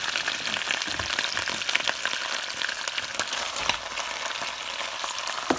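Red snapper fries in a hot pan alongside peppers, with a steady, close crackling sizzle and scattered sharp pops continuing throughout, no voices.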